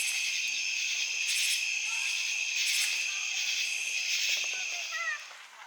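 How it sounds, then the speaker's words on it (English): Crickets and other night insects at a campground in Cades Cove in the Great Smoky Mountains, a dense steady high-pitched chorus of trilling that continues without pause, with a faint bird call near the end. "Love the sound of those crickets."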